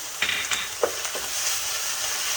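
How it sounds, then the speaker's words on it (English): Steady sizzling of chicken in a hot pan over high heat, close and loud, with a few brief clinks of stirring. "make sure it's high heat. Constantly, you want to hear the sizzling"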